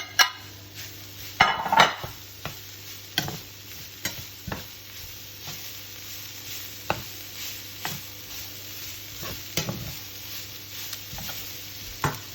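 Browned beef goes back into a pan of cooked garlic, giving a soft low sizzle under regular clacking stirs and scrapes of a utensil against the pan, with a louder burst of clatter early on and no talking.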